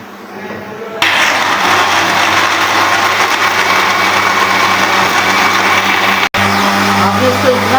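Kitchen blender starting up and running steadily while grinding mint lemonade ingredients, a loud continuous whirring grind that is close and alone, with a brief cut near the end.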